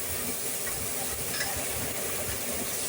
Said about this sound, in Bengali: পেঁয়াজটা নিচে ভাজি করে নেব।